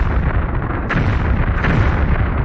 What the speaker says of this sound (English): Still explosions going on.